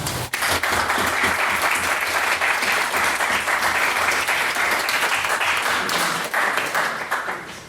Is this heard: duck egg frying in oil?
no